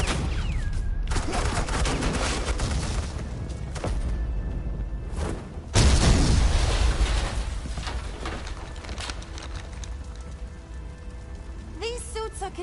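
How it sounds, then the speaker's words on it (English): Gunfire from a helicopter in a Batman video game comes in rapid bursts and thuds layered with game sound effects, one louder burst standing out midway. "they're gonna try to shoot me from a helicopter"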